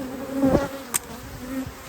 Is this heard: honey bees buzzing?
yes